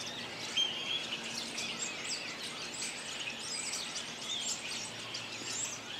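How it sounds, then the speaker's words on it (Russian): Birds chirping and singing outdoors, faint high tweets and short calls scattered over a quiet, steady natural background, with no talk. "камера звуки щебетания птиц, но я их слышу"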